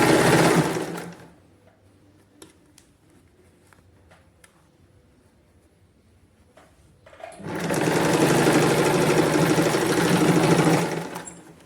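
A sewing machine stitches a Katori blouse, running loud and steady up close, then falls to a pause filled with faint clicks and fabric handling before a second long run.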